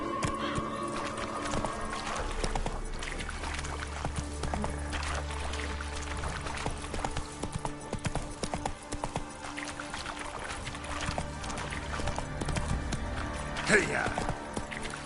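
Horse hooves clip-clop steadily in The Witcher 3, a rhythmic trotting beat under game ambience and a voice urging the horse on.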